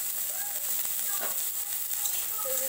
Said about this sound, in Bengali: প্রত্যেকটা সবজি আমরা সরষের তেলেই ভেজে নিচ্ছি